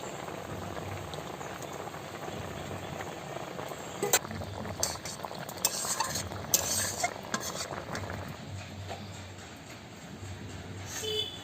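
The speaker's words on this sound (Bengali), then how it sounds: "মাছ দিয়ে 2 মিনিট জাল দিয়েছি, এখন নামিয়ে নেবো।" A rohu fish curry with red potato simmers in a pot, giving a steady soft bubbling, and a utensil clinks against the pan now and then with a few sharp taps.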